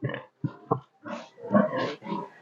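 A sow in heat on a pig farm grunts close by: a few short, sharp grunts, then a run of longer, louder grunts.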